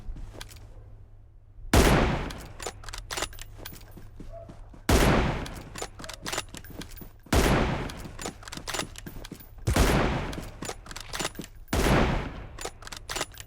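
Gunfire in the PUBG Mobile battle royale game, sniper practice in an arcade mode: five loud sharp bursts of rapid shots, each followed by clattering echo and softer trailing shots, spaced a few seconds apart with no voices.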